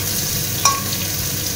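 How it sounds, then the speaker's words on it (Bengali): Flat beans and potatoes fry in a pan with a steady, close sizzle. A single sharp scrape or clink of a stirring utensil stands out partway through. "তো সিম আর আলুটা আমার ভাজা হয়ে গেছে"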